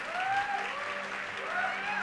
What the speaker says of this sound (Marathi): I hope this clapping remains after I start the word